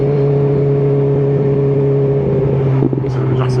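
A BMW S1000R motorcycle engine holds a steady, loud idle-like drone, then a quick throttle blip near the end briefly raises the revs before settling.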